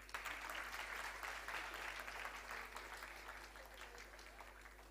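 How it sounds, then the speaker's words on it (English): Audience applause for an award winner at a 2024 convocation, a continuous, even wash of clapping from a sizable crowd, slightly fading toward the end, with a low steady hum underneath. "We can clap for Maitreyo."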